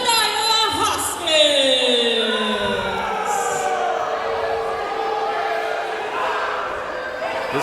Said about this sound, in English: This crowd letting Jebediah Hoskins know exactly what they think of him